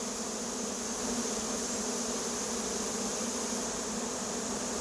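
A swarm of honey bees returning to a hive after absconding, a dense, steady buzzing drone that fills the whole stretch, close and continuous with no voices.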